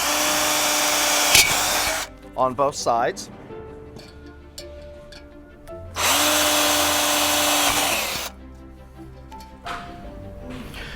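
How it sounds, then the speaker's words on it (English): A power drill boring a pilot hole into a post while an aluminum railing gate latch is installed; two loud, steady whirring bursts of about two seconds each, separated by brief talk and handling noise. "I'm simply going to take this bit and drill the pilot hole"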